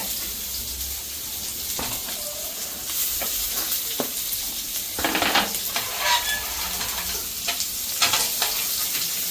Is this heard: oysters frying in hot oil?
yes